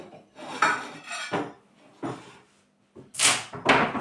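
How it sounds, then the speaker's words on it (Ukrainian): Ceramic dishes clink and clatter a few times close by, with brief pauses between the knocks in a quiet room. "Беремо велику тарілку."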